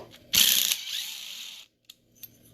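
A 2.0 wrench turns out two screws from the rear differential of a TLR 8ight-X RC car, giving a loud burst of ratcheting, clicking mechanical noise that fades, then a couple of faint small clicks.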